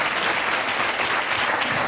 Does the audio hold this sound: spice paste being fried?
no